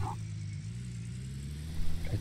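A vehicle engine in the Gold Rush video game holds a steady low drone at full throttle, a continuous mid-level rumble that swells briefly near the end.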